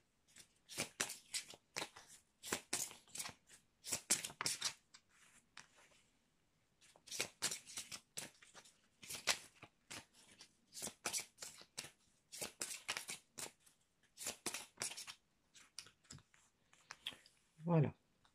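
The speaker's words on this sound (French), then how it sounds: "je vais prendre des cartes de l'oracle de Shine. Donc je vais en prendre 3." Oracle cards being shuffled and handled in quick rustling bursts, close and crisp, repeating in clusters with short pauses between, with a brief voice at the very end.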